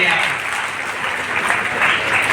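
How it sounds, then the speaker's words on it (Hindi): An audience bursts into steady, dense applause at a youth forum event held at a school, the clapping loud and sustained throughout. "एक बार ताली बजाइए आप।"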